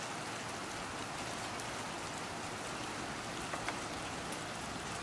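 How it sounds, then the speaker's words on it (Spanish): Light rain falls in a soft, continuous hiss, faint and even throughout, with a few isolated drop taps standing out near the end and no voices. "¿Empezó a llover un poquito?"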